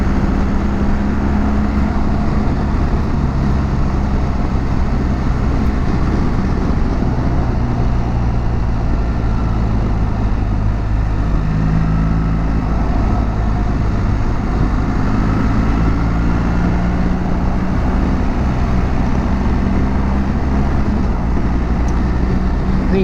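Steady, loud engine drone of a motorcycle under way on the road, its note shifting with gear changes from a quick shifter that still feels slightly rough, continuous wind and road rumble throughout with no talking.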